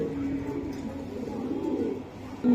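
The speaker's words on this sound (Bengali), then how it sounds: "এগুলা হাইপ্লার কবুতর" Soft, low cooing of high flyer pigeons drifts under a quiet background hum, with faint indistinct voices nearby.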